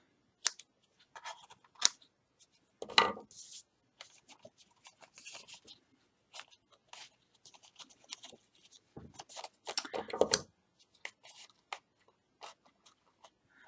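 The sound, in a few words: scissors trimming crochet work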